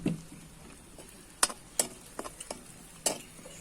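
Vagarni mirchi chillies fry in a pan, with a faint background sizzle broken by several sharp, separate ticks and scrapes of a spoon against the pan.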